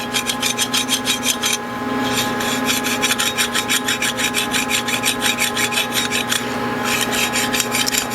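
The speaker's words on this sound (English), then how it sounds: "I'm keeping my file essentially flat, and I can feel it and hear it when it's cutting" Flat file rasping across a burr on the edge of an early Porsche 901/902 transaxle case, with steady rhythmic strokes repeating close up, loud and even, no talking.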